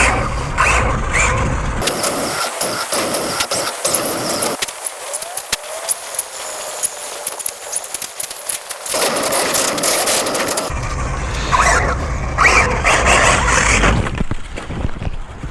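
A brushless RC car motor whines and revs while the car drives and jumps, loud and close at the start and end, dropping to a quieter, distant buzzing in the middle, with ratchety mechanical rattles and no talk.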